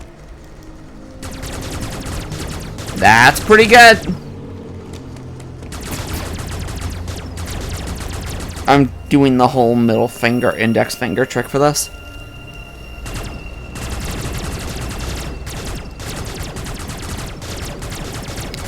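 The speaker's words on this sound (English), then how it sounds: "how fast can I fire the power cannon?" Samus's power cannon fires in Metroid Dread as rapid bursts of repeated blasts in two main volleys. A player talks over the game sounds and the background game audio throughout.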